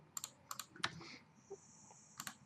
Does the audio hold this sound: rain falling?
no